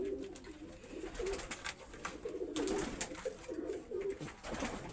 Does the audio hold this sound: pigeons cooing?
yes